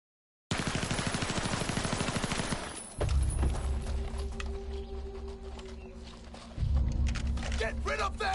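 Rapid machine-gun fire in a video game, a fast rattling burst up front, then heavy rhythmic low thumps pulsing steadily beneath quieter clatter and a brief vocal cry near the end.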